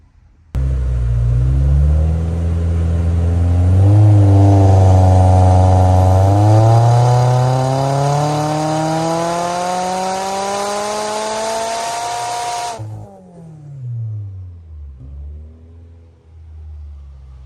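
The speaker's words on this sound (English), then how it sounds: "we'll hit the dyno, we'll do some power runs" A turbocharged 2024 Subaru BRZ engine on a dyno power run, running on E85, climbs in a long loud rising rev for about twelve seconds, then cuts off abruptly and settles into a lumpy idle with rumbling blips.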